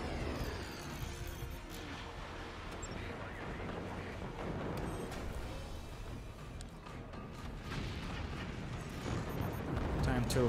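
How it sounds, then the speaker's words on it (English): Fire beams firing in a video game, a dense, continuous roar of blasts and rumbling explosions that swells toward the end, with no clear gaps. "Let's just fire our fire beams somewhere."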